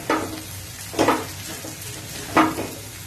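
Three bursts of a spatula scraping and tossing boiled chowmein noodles with vegetables and egg in a hot pan, over a soft continuous sizzle.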